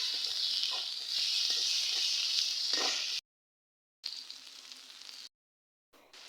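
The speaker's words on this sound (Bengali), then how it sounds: "তো এখন একটু নাড়াচাড়া দিয়ে" Onion, turmeric, chili powder and ginger paste fry in oil with a steady, bright sizzle and a few stirring scrapes, broken by two abrupt gaps of silence before the frying resumes.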